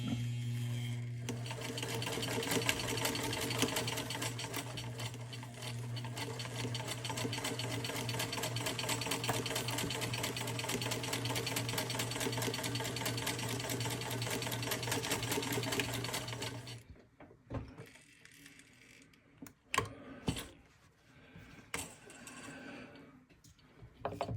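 A sewing machine stitches in a long, steady, fast rhythmic whir with a humming motor tone, running close for about seventeen seconds before stopping, followed by scattered handling clicks and rustles.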